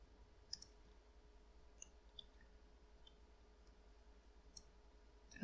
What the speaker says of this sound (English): Click and double click.